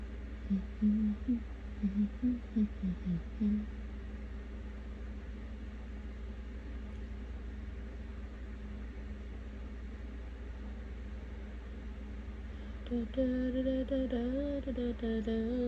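A small kitchen blender whirs in a steady, continuous drone for the whole stretch, while a person talks and hums briefly over it at the beginning and again near the end.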